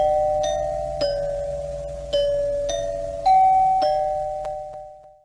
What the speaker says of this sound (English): you rang the doorbell, and that made me open the door